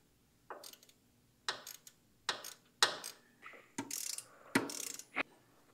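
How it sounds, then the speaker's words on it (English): A 1/4-inch ratchet with a deep well socket snugs up a drain plug during an engine oil pan job, giving about seven short, bright clicking bursts in a loose rhythm, close and clear with no talk. "put it on your 1/4-inch ratchet, and just snug that up"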